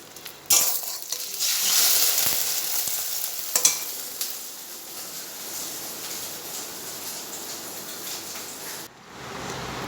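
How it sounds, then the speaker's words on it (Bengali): An egg frying in a pan gives a loud, bright sizzle right from the start, with a few sharp utensil clicks early on, settling into a steadier crackle before a quick scrape near the end. "এই যে ডিম ভেজে দিলাম ছেলেকে"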